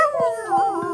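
Several dogs howl together in long, wavering, rising and falling tones, loud and close, with brief lower yips under the howls and no talking.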